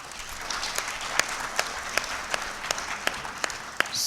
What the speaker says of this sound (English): as a gesture of appreciation, I request you to give them a round of applause.